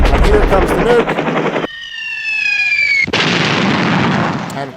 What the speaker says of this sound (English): And here comes the nuke.